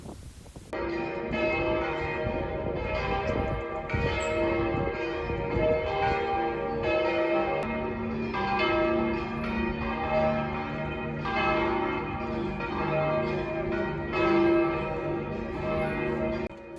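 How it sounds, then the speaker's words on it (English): Church bells ringing in medieval Assisi, central Italy, a continuous series of resonant rhythmic peals with rich overtones, sustained and moderately distant across the open plain. "especially with the sound of church bell"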